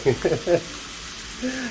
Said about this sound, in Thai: คุณแม่ผมก็จะผัดกระดูกหมูก่อนนะครับ